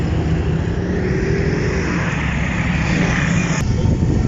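Steady road traffic rumbling across a large road-and-rail bridge, a continuous broadband drone of cars and heavier vehicles at moderate distance with no talk.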